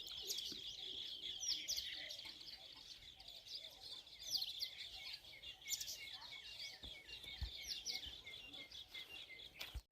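Sparrows perched on a wire keep up a dense, continuous twittering of bright overlapping chirps at moderate distance, with occasional softer cooing and rustles in the background.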